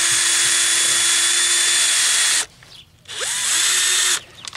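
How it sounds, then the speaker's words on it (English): A power drill whines steadily at high speed while boring into a basement window frame, stops briefly, then spins up again for a second loud, close burst. "we want to drill in here these little..."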